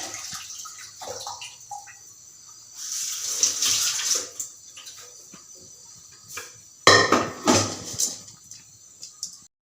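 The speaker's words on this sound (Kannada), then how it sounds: "ನೀರನ್ನು ಸ್ವಲ್ಪ ಕಡಿಮೆನೇ ಹಾಕ್ಕೊಂಡು ಬೇಯೋಕೆ ಇಟ್ಕೊತಾ ಇದ್ದೀನಿ" Water pours into a cooking pot of lentils being readied for Andhra-style pappu, in two splashing bursts separated by a quieter pause, close and moderately loud, with no talking.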